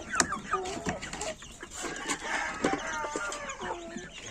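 A rooster among young farmyard chickens gives short clucks and a few brief crowing calls, close by and moderately loud, with mixed bird chatter behind and no clear speech.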